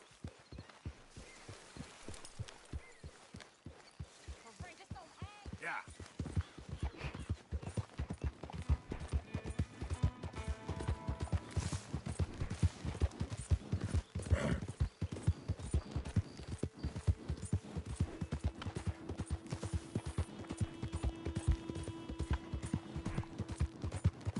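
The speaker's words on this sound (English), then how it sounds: "hate riding this horse everywhere. It takes so long." Horse hooves clip-clop in a steady rhythm while riding in Red Dead Redemption 2, starting at a slower walk and settling into a quicker, even gait, close and clear with faint background game sounds.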